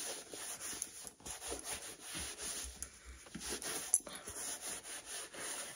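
A leather wipe rubs over a shoe in quiet, uneven scrubbing strokes, soft close-up friction sounds repeating in bursts with no speech.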